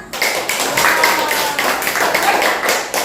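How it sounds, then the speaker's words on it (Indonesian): Children in an Indonesian primary classroom clap together in a loud, rhythmic patterned clap, quick bursts repeating close by for a few seconds. "Tepuk tangan dulu anak-anak"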